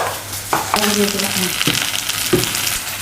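Okra sizzles loudly as it fries in a pan, close up, with a continuous crackle and several sharp spatula scrapes and clinks while it is stirred. No one speaks.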